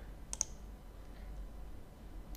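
A computer mouse button clicked twice in quick succession, two crisp, faint, close clicks over a quiet room hum.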